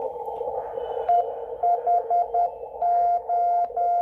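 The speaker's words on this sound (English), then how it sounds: "you can hear the dit and the da from the key here" Morse paddle key sidetone from an ICOM IC-7300 transceiver, a steady pure beep tone keyed into short dits and longer dahs in an irregular rhythm, clear and close over a faint background hiss.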